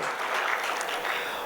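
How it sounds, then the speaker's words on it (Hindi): An audience at a Holi celebration event gives a short burst of dense, steady clapping, close and fairly loud, lasting about a second and a half. "तालियां होनी चाहिए इस बात पे"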